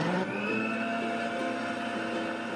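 A blender whirs loudly and steadily, puréeing squash with cheese, its motor humming at a constant pitch for the whole stretch.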